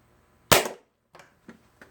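A homemade high-powered nerf gun fires with one loud, sharp crack, followed moments later by three short, fainter knocks as the can is hit and clatters.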